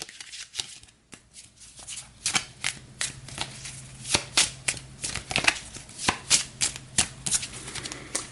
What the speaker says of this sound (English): We'll give this a quick shuffle.